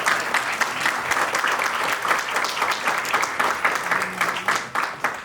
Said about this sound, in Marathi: सर्वांनी टाळ्या वाजवून त्यांचं स्वागत करावं